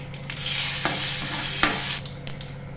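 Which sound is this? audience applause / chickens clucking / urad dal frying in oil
urad dal frying in oil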